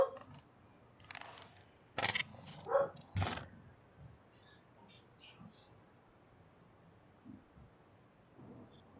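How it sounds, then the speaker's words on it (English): A dog barks a few times from a back garden, a short cluster of loud barks followed by quieter distant sounds against a low background. "if you can hear a dog. That is not actually in-game, that is the dog that is in my back garden"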